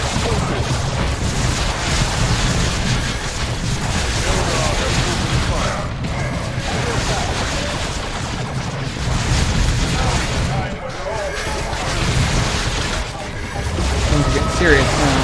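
Booming explosions and gunfire in the Warhammer 40k strategy game Dawn of War II, a loud, dense battle rumble with repeated blasts across the whole stretch.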